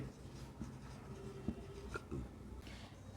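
Pen writing on paper while working a class 7 maths problem, soft steady scratching strokes with small taps, close and quiet, with no talking.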